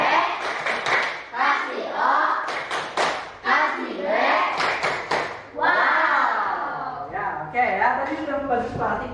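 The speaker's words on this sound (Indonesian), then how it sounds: "Oke, tepuk tangan buat kita." Rhythmic hand clapping in a classroom lesson with chanting or sung voices over it, a lively group pattern of claps and vocal phrases.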